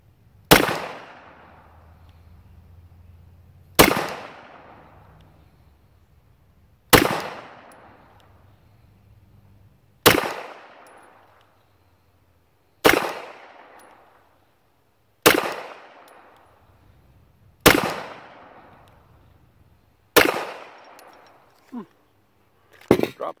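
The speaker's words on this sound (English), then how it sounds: "Let's shoot this guy a little bit and see what it actually shoots like at 7 yards." Glock BB gun fired at a target at 7 yards: nine sharp, close cracks spaced roughly three seconds apart, each decaying quickly, with faint low background noise between them.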